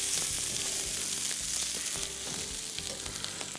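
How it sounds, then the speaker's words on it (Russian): Onion and potatoes fry hard in a pan with a dense, steady sizzle and crackle, close and loud throughout, with no voices. "Вот здесь мы уже лук жарим достаточно сильно"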